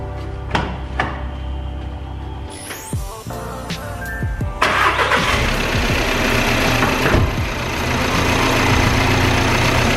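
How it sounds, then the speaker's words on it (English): A car engine cranks a few times, then catches and settles into a loud, steady idle with scattered metallic knocks. "So I'm going to start the car and start drying."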